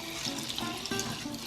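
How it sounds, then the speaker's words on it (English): Water pours and splashes through hydroponic sprouts being rinsed, a close continuous trickling flow with small surges, no one talking. "Rinse through a few times, get them moist again, let all the extra water drain out."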